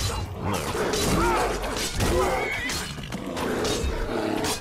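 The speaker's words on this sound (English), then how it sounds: "the dog and the horse have got me pinned in" A horse in the Skyrim video game lets out loud, rough neighs and snorting whinnies in repeated bursts, close and prominent throughout.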